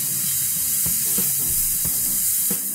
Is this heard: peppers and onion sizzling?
yes